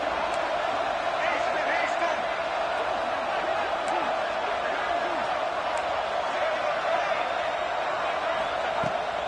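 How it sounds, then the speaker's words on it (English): Football stadium crowd at an FSU versus UF game rising in a sustained, dense roar during a two-point try in the final seconds, steady and loud throughout with scattered whoops. "this crowd rises up to try to make it tough"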